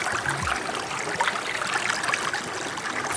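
A small, icy mountain stream flows beneath little footbridges along a hiking trail, with a steady close rushing and trickling of water that fills the whole moment.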